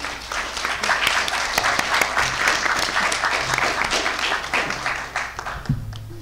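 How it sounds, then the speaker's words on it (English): Steady round of applause from the audience at a university student government debate, dense and sustained clapping with a brief low voice near the end. "Let's hear a round of applause for our candidates today."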